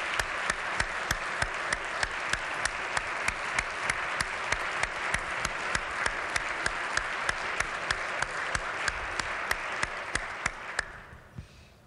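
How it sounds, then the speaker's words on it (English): A legislative chamber crowd applauds highway road crews with steady, dense clapping and a few sharper claps standing out, lasting about eleven seconds before tapering off quickly. "So I think they deserve a round of applause."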